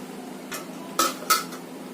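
A metal lid set down over a pan of stuffed brinjal gives two quick clanks with a brief ringing tone, close and fairly sharp, over a low steady background hum.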